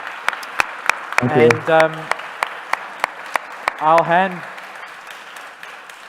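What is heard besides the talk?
audience applause at a conference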